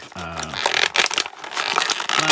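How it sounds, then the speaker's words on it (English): Modeling snips cut through a plastic blister pack on an action-figure package, giving close, loud crunching and crackling bursts of stiff plastic, with brief pauses between cuts. "Some modeling snips here."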